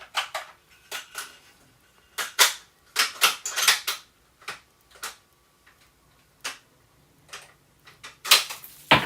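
.22 Creedmoor rifle cartridge worked into the chamber to check fit, a run of sharp close metallic clicks and clacks in irregular clusters, with quiet gaps between.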